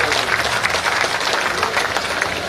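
Loud, dense applause from a large crowd at a BJP political rally in Rewa, sustained and even throughout with no break.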